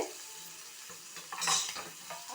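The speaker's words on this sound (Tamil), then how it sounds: "இப்போது இறால் வந்து நல்லா ஃப்ரை ஆயிடுச்சு" Prawns frying crisp in hot oil make a quiet, steady sizzle with a short louder crackling surge midway, close and without any talk.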